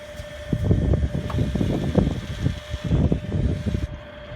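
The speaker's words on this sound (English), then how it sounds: "you notice this whining sound coming like from this oil coolant system" A 2008 BMW 535i engine idling with a steady high-pitched whine, from the oil coolant system, running constantly over the low, uneven rumble.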